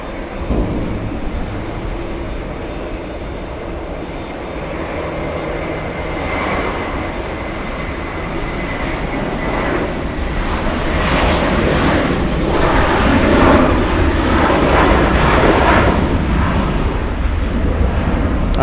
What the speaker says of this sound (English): Oh, JetBlue taking off.